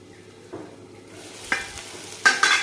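Mutton curry with spices being stirred and fried in a pot, soft scraping stir strokes with light sizzling, a few louder clattering stirs near the end, close and alone.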